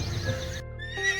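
A soldier's horse arrives, a close, loud neigh with hoof clops, then a short second whinny as it settles, with no talk.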